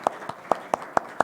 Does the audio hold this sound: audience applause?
yes